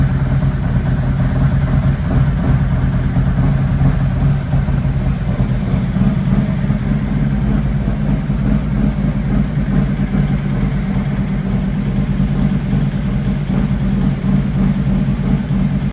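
Harley-Davidson 147CI motorcycle engine idling, a loud steady low rumble with an even throbbing pulse, close up and continuous throughout with no talk.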